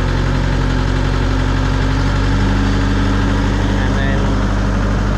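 A UHI tractor engine runs steadily at about 1500 rpm, a loud, close, continuous heavy rumble with constant vibration and no break.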